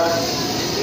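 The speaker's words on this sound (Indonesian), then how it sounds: "Nah ini kereta udah berangkat tapi agak melambat lagi." A commuter train pulling away and slowing at Tanah Abang station, heard up close as a steady, loud rumble of rolling rail cars with a faint squeal.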